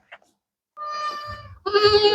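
Goats on a breeding farm in Gujarat give two loud, wavering bleats close by, the second stronger and harsher, after a brief faint sound and a moment of quiet.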